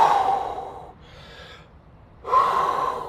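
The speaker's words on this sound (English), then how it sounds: "big, huge, heavy breaths" Heavy, deliberate human breaths, a loud inhale followed by a pause and another strong breath, close to the microphone with no talking.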